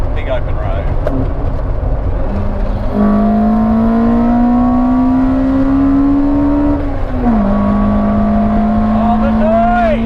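A tuned Toyota MR2 with a 4AGE 20V engine accelerates hard, its high-pitched note climbing steadily through a gear, dropping at a shift, then rising again; loud and close, with voices under it.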